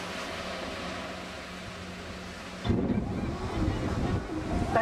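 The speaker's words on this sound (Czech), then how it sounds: "Ale moře je krásný." Sea waves wash onto a beach in Jamaica in a steady, close surf roar with wind buffeting the microphone, swelling louder partway through, with no voices.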